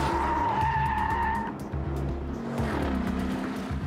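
A car skids during high-speed evasive driving training, with loud tire squeal over engine roar for a few seconds, then continued engine and tire noise as it keeps moving.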